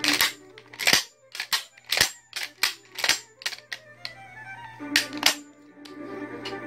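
A Fabarm Martial 12-gauge pump shotgun has its action worked: a rapid string of sharp metallic clacks and clicks, close and crisp, sliding and locking in irregular bursts, with no speech.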